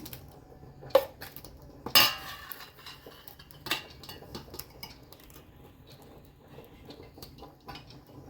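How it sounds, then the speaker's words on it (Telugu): Ground paste is scooped into a bowl with a spoon, making a few sharp clinks and scrapes of metal on the dish, separated by quieter handling noises. "ఇప్పుడైతే మనం ఇది ఒక బౌల్లో వేసేసుకుందాం."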